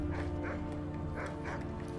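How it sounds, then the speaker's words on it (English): Dogs bark in the Skyrim video game in a quick series of sharp yips and barks, moderately close, over a constant low background hum, with no talking. "And the dogs are still going at it."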